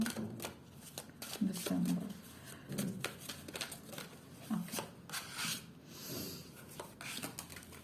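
Cards for a tarot-style reading are handled and shuffled close by, giving soft papery riffles, slides and taps in irregular bursts, with a quiet voice murmuring at times.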